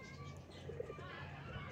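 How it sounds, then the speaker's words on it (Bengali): A pigeon gives a soft, low coo, faint and brief, against a murmur of background voices and outdoor noise. "ঘিয়া চোখের পায়রা"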